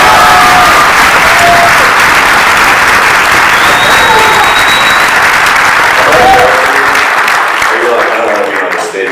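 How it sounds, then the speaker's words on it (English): Audience at a 2017 Phoenix Comic Con panel applauds in a loud, sustained wave of clapping and cheering that fills the room before tapering off. "Give this man an insane round of applause."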